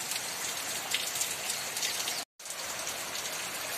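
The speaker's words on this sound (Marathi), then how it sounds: "सगळीकडेच खूप पाऊस पडतोय" Heavy monsoon rain pours down in a steady, dense hiss of drops striking surfaces, broken by one sudden split-second gap before the downpour resumes just as strongly.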